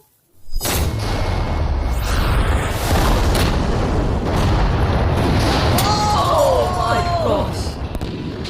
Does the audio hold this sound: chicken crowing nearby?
no